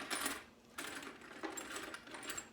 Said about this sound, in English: So the bottom washer is going to be a flat,